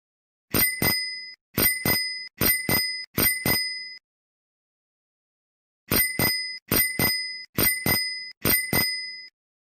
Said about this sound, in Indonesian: Yang ketiga, bunyi bel sepeda.